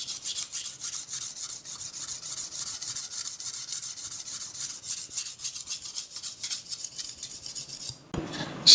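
A kitchen knife's edge bevel is stroked against a sharpening stone at a steady angle, giving a continuous rhythmic scraping rasp close by, with a brief louder shift near the end.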